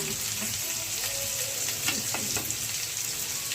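Pui metuli (Malabar spinach stems) sizzles steadily in a hot pan of oil, a constant loud frying hiss with occasional scraping and knocking of the stirring spoon close up.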